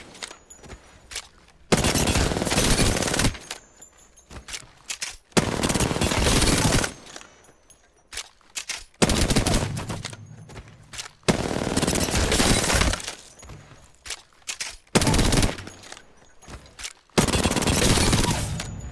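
Sustained bursts of automatic gunfire from a light-ammo weapon in Apex Legends rattle loudly in repeated long strings, separated by short quieter gaps, with a brief word spoken at one point.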